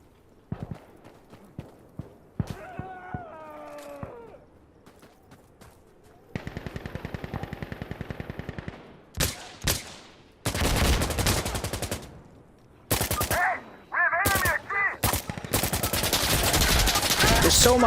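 Rifle fire in the video game Arma Reforger: scattered single shots early, then loud rapid bursts of automatic fire later on, close and sharp, with bits of other game noise between.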